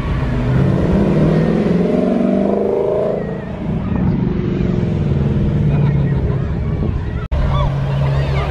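A new-shape Ford Mustang passes at a classic and supercar show, its engine rising and falling as it goes by close with a throaty rumble, partly buffeted by wind noise, while a voice talks over it.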